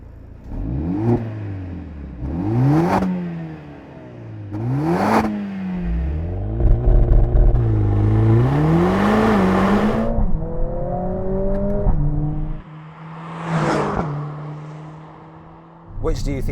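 New Mercedes-AMG A45 S engine blipped several times, each rev a sharp loud rise and drop, followed by a longer sustained rev and pops on the overrun, recorded close with idle rumble between bursts.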